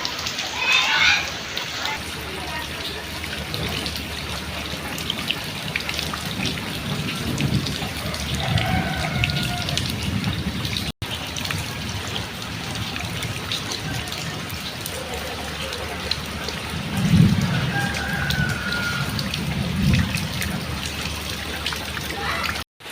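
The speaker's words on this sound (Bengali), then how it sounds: "যে বৃষ্টি নামতেছে মনে হয় না বৃষ্টি যাবে বলে।" Heavy rain pours steadily in a village, a continuous wash of falling water and runoff throughout, with a voice speaking over it at times.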